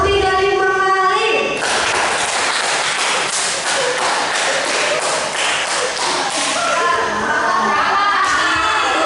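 A crowd at a youth church service breaks into loud, dense clapping that runs for several seconds. Music plays just before and just after the applause.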